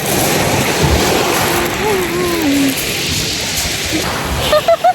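Ocean surf at Brighton beach, a steady broad wash of waves mixed with wind buffeting the microphone, with faint voices drifting through the background.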